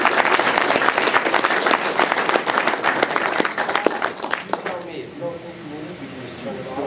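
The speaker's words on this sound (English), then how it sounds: "Big round of applause for Jim." An audience applauds as a speaker is invited up at a talk on European standards, a dense burst of clapping that thins out after a few seconds, with some voices mixed in.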